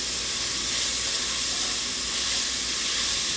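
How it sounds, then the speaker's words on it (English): Chicken searing in a hot pan, a steady, dense sizzling hiss close up that holds constant throughout with no talk over it. "Do y'all hear that sear?"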